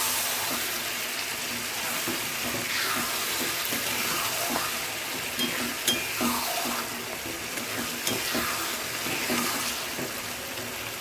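Khandeshi gilki (sponge gourd) bharit simmering and reducing in oil in a pan, with soft continuous sizzling and bubbling broken by occasional scraping stirs of a spoon, close and fairly quiet.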